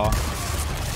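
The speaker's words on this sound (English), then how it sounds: "That was a rocket launcher." A rocket launcher fires in the Resident Evil 4 Remake video game: one loud, booming blast at the very start that rumbles and fades over the following second.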